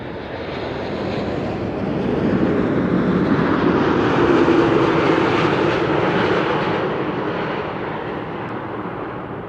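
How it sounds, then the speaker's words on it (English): A KLM Boeing 787-9 Dreamliner arrives at Amsterdam Schiphol on a frosty day, a broad jet roar swelling as it nears and passes, then easing off a little while staying steady. "KLM, Flight 668, arriving from Austin in Texas"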